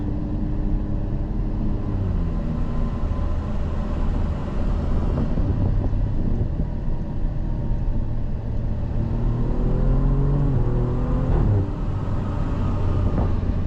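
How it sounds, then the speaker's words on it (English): A 2023 Alfa Romeo Giulia Quadrifoglio engine drones steadily throughout, with a few sharp crackling exhaust pops around the upshifts riding over the rumble. "the exhaust has some nice pops and crackles with the upshifts"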